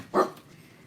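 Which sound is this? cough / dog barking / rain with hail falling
dog barking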